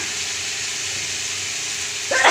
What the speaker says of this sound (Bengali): ছোলা আর একটু সেদ্ধ করে রেখেছিলাম, সেটা দিয়ে দিলাম